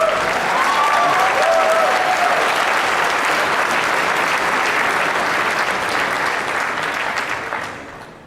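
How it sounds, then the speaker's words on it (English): Sustained audience applause at a live video game demo at PAX East 2011, full and even, carries on for several seconds before tapering slightly at the end. "didn't expect that to get an applause"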